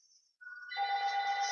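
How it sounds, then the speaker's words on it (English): A telephone rings in a quiet room during a gentle yoga relaxation session: a soft electronic tone, then a louder, sustained, warbling ringtone that keeps going, with no one speaking. "Sorry about the phone."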